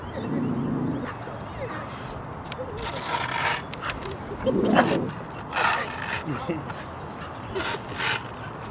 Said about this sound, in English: Looks like we got a dog visitor.